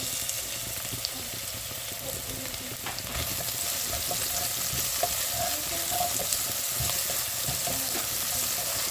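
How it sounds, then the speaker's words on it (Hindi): Onions and ginger-garlic paste fry in a pan for chana dal, giving a steady close sizzle with scattered crackles and a few stirring scrapes throughout, no talking. "ये हमारा प्याज 2 से 3 मिनट फ्राई हो गया है।"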